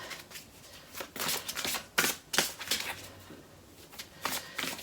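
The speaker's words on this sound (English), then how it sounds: "I want to pull a card here for Michael, please." Arcturian Galactic Travelers Oracle cards are shuffled close up, producing a run of riffling, papery bursts with brief pauses between them.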